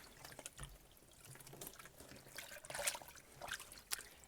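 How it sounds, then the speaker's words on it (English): Knitted crochet pieces being soaked and worked in a basin of hot water give soft, quiet sloshing and dripping, with small splashes and trickles scattered throughout. "And now I just like soak my pieces, and I get them all wet, make sure they're thoroughly soaked."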